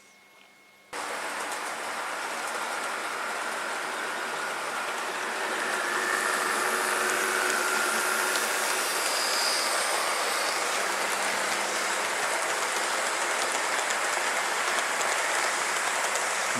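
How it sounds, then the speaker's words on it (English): American 00/HO scale model trains run along a model railway track with a steady, close, continuous rumbling and whirring hum that grows slightly louder partway through. "Since my American trains are already on the track, we can let them do the run-bys"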